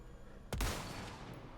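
A single loud gunshot from a scoped weapon in Resident Evil, cracking sharply and then trailing off into a brief echoing tail.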